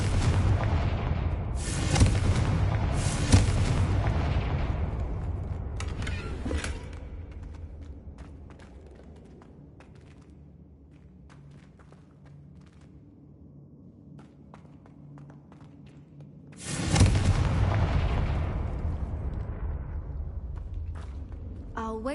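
Confringo blasting spell exploding in the Hogwarts Legacy video game: a loud booming burst with crackling debris that fades into a low rumble, then a second heavy blast near the end.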